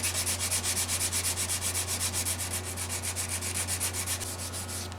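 A carbon fiber guitar repair sanded with 120 grit sandpaper makes close, even, rhythmic rubbing strokes over a steady low hum, with no talk.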